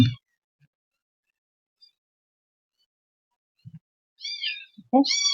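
Newborn kittens from a litter of five give a few short, high mews near the end after a long near-silence. A faint low thump is heard earlier.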